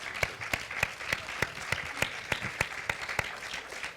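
Applause for architect Jaime Romano at the close of his talk: a modest group claps in a fairly steady rhythm, each sharp clap standing out over a soft, quiet bed of patter.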